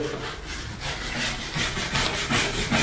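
A stiff brush scrubs a part on a Doblo during cleaning, with a loud, close, continuous rasping sound made of rapid back-and-forth strokes and no talking.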